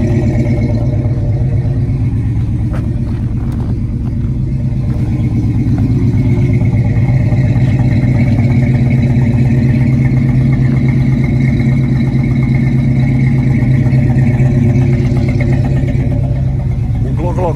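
A 1967 Dodge Dart GT's 273 V8 engine rumbles steadily and loudly nearby through its exhaust, a deep throaty idle with slight revving swells throughout.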